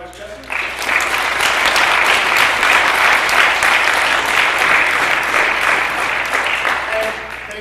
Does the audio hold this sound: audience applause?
yes